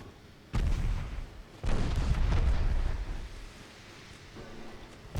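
Heavy naval gunfire booms from a Korean-campaign naval video game, two loud deep blasts with rumbling tails and a further muffled thump near the end.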